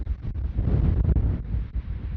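Gusty wind atop Windy Peak, a summit in Rainbow Mountain Wilderness, Nevada, buffets the microphone with a deep, loud rumble that surges and dips.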